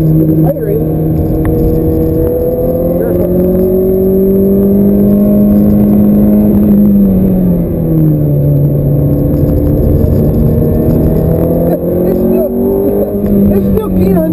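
Audi R8 or Ferrari F430 sports car driving a wet racetrack in rain, a steady loud engine drone with slowly rising and falling pitch sweeps, heard continuously from inside or close by throughout.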